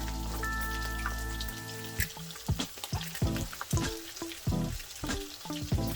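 80-20 ground beef browns in a pan with no added oil, a close, busy crackling sizzle broken by spatula scrapes and stirring clatter, after a brief steady hum at the start, with no voices.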